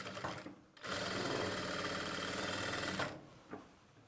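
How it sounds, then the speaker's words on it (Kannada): Sewing machine stitching thread piping onto a square neckline, a close, rapid mechanical whir running for about two seconds, with quieter handling sounds before and after. "ಸ್ಕ್ವೇರ್ ಶೇಪ್ ಜಾಗದಲ್ಲೂ ಅಷ್ಟೇ ಕರೆಕ್ಟಾಗಿ ನೋಡಿಕೊಂಡು ಸ್ಟಿಚ್ ಮಾಡ್ಕೊಳ್ಳಿ."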